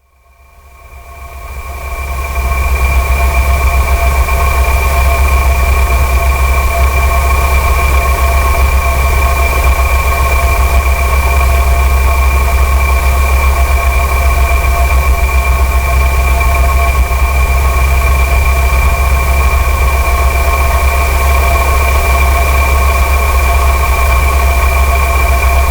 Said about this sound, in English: It's going to be quite noisy while we take off.